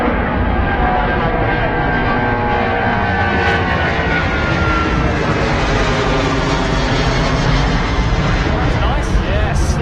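A Boeing 777 roars past at Heathrow Airport, a loud, broad, continuous engine rumble that slowly rises and swells over the whole stretch, with no clear talk above it.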